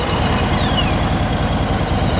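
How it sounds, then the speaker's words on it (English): A 2018 Yamaha Venture touring motorcycle's V-twin engine idles close by with a steady, quiet low rumble and an even pulsing lope, with no voices. "let's start this thing up and listen to the sound."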